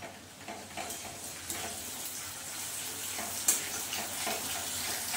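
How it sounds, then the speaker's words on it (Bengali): Onion frying in a pan with ginger paste, a soft continuous sizzle with occasional stirring scrapes, fairly quiet and close, no talking. "পেঁয়াজটা ততক্ষণে আমার ভাজা হয়ে যাবে"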